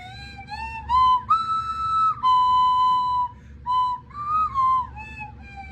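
A slide whistle plays sweeping pitch glides up and down, with a few short held notes and brief pauses between phrases.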